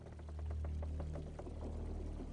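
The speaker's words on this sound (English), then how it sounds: "the noria is a superbly simple water-lifting machine" Water pours steadily from a noria, an ancient water-lifting wheel, splashing continuously with a low rushing hum and no voices.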